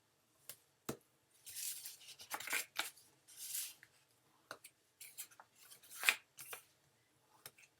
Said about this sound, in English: So I'm going to use my bone folder to encourage those folds.